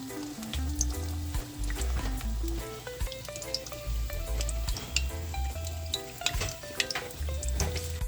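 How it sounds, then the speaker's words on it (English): Jamaican Johnny cakes fry in a pot of hot oil with a steady crackling sizzle and scattered pops, heard beneath continuous background music. "meanwhile my Johnny cake are frying"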